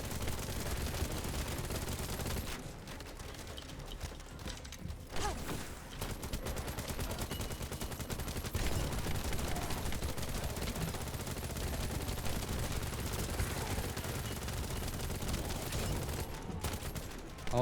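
Sustained gunfire from the shooter game The First Descendant, a dense, continuous stream of rapid shots with heavy explosive bursts throughout, loud and close with no talking.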